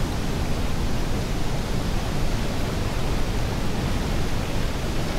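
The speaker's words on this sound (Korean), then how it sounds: "이렇게 색깔이 아름다운 폭포수가" A glacier-fed waterfall in Chile roars in a steady, dense, broadband rush, loud and close, with no voices over it.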